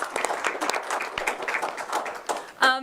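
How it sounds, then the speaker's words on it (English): Audience members at a city council meeting applaud in a broad, lively burst of clapping that carries on steadily, with a brief sound near the very end cutting across it. "Applause."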